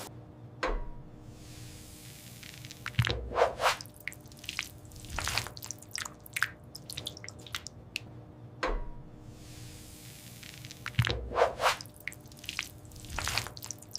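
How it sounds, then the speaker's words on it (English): Mechanical orange juice extractors pressing oranges in a modern juice factory, with two clusters of wet squishing presses and dripping juice repeating about every eight seconds over a steady low machine hum. "the mechanical extractors gently press the oranges and release the juice"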